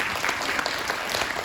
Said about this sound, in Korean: 크게 박수로 맞이해주시기 바랍니다